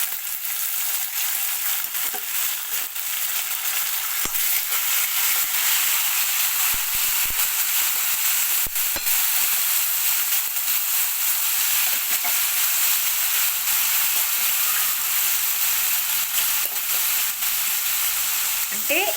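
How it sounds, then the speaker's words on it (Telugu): Boiled bitter gourd pieces fry in a pan with a loud, steady sizzle that fills the whole stretch, with occasional stirring clicks and scrapes close by. "మన ఉడకబెట్టుకున్న కాకరకాయలని దీంట్లో వేసేద్దాం."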